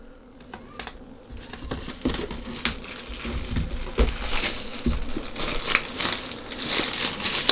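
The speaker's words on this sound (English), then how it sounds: "So I'm gonna just peel off the tab on the side." Packaging tab being peeled off the box of an Apple Magic Keyboard for iPad Pro, close crinkling and tearing of paper and plastic with scattered sharp crackles that grow busier toward the end, no talking.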